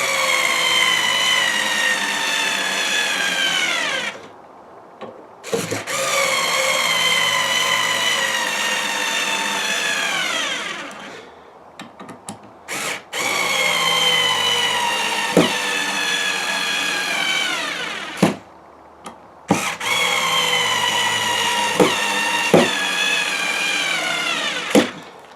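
A cordless screwdriver motor drives screws in three long runs, each a loud, close, high whine that drops slightly in pitch under load, separated by brief pauses with small clicks and knocks.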